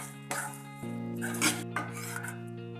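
A brinjal curry with crushed pigeon peas and tomato puree stirred in a pot, with soft scraping spoon strokes against the pot over a steady hum, close and without talk.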